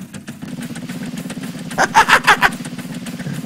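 A buggy's engine runs in the building game Scrap Mechanic, a steady buzzing motor drone with a burst of louder rhythmic revving pulses in the middle, heard alone without talk.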